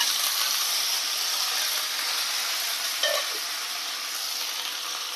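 Curry leaves frying in coconut oil with dried chili and mustard seeds in a home kitchen pan give off a steady, loud, hissing sizzle that runs without pause, with a brief crackle partway through and no talking.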